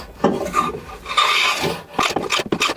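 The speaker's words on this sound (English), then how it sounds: "using the hand planer to clean up these edges" Hand planer smoothing the edges of pallet wood boards for a dog bowl stand, giving close, loud rasping strokes that scrape in uneven bursts.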